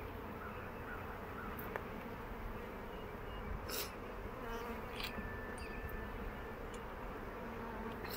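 Honey bees buzzing during a first hive inspection, a continuous soft hum of many insects close by, with a few brief louder passes as individual bees fly near.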